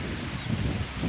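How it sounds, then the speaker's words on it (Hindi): Strong wind blowing by a riverbank in India, heard as heavy, uneven low buffeting and rumbling against the microphone, with faint rustling above it. "इधर से देखो कितनी तेज़ हवा चल रही है"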